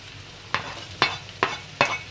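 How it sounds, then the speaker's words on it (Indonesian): Spring onion stirred into sizzling onion and garlic in a pan, four sharp scraping stir strokes at a steady pace over a low, quiet frying hiss, close up. "kita masukin daun bawang"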